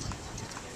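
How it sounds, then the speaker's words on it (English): Hooves clip-clop briefly on a hard surface, a few quick beats close by, with a faint voice in the background. "And they're horses."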